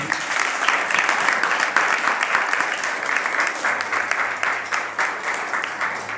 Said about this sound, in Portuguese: Você pode aplaudir para Deus?